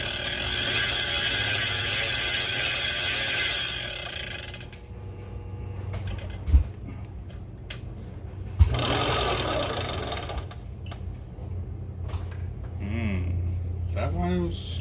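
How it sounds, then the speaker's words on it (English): A big Everol 20/0 fishing reel spools on 200 lb hollow core braid with a steady whirring, gear-driven mechanical hum, followed by quieter ratcheting and a couple of sharp knocks, with a voice nearby. "Let's get it spooled up, guys."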